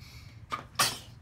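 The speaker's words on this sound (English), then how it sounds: "You sneeze pretty hard." A single sharp, close sneeze, preceded by a short intake of breath, in a quiet indoor setting.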